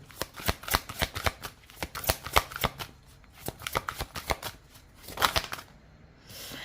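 Oracle cards are shuffled by hand in a steady run of crisp riffling slaps, close and fairly quiet, with no talking over them.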